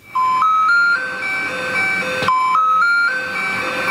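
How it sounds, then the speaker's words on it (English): Ice cream truck jingle played as a sound effect from a Google Home smart speaker, a bright chiming melody of stepped tones that repeats its phrase twice, loud and clear with no talk over it. "An ice cream truck."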